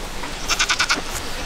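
Goats on a farm bleat at feeding time, giving a quick cluster of four or five wavering cries close by at moderate loudness.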